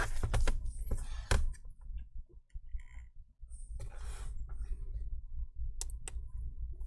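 A laptop power button on a Dell 3593 clicks several times. The sharp, close taps are scattered over several seconds, with low handling noise underneath and a few brief hissy sounds between the clicks.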